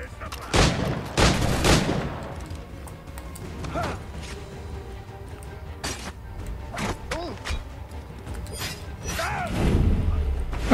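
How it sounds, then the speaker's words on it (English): Gunshots aimed at the player in Assassin's Creed III, several sharp cracks and a few bursts spaced across a noisy crowd scene, moderately loud. "Ow, he shot me."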